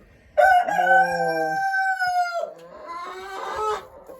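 A heavy breed rooster crows loudly and close, a long drawn-out call followed by a second rough crow and hen-like clucking.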